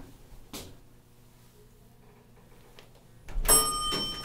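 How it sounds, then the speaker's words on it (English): An elevator cab door with green doors slides shut: a soft click early, a quiet stretch, then a loud sliding rush and thud followed by a ringing, tonal chime that lingers. "Door closes."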